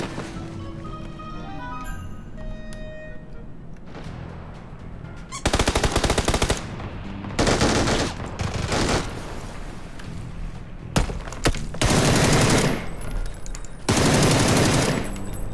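Video game gunfire crackles in several loud bursts of rapid automatic fire, separated by quieter gaps holding faint game sounds and distant shots.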